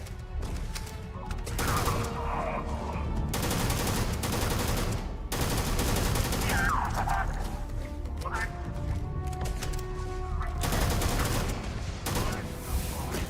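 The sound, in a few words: gunfire in video game Starfield: Shattered Space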